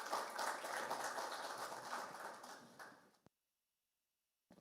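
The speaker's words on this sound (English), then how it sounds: "Please, a round of applause, ladies and gentlemen." Audience at an Ndola investment conference applauds a guest of honor: dense, steady clapping for about three seconds that fades and stops abruptly, followed by silence.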